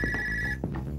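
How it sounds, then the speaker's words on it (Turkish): A home telephone rings indoors with a steady electronic bell tone that cuts off partway through, followed by brief clatter of the handset being picked up. "Ya telefon sabahtan beri susmuyor. İşte gene çalıyor."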